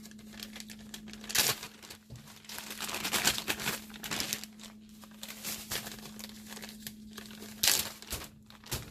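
A double-bagged plastic bag of gold pay dirt is handled up close, giving soft continuous crinkling and rustling with a few louder crumples, over a faint steady hum.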